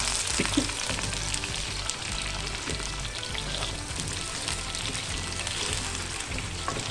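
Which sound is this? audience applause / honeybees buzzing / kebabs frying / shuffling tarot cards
kebabs frying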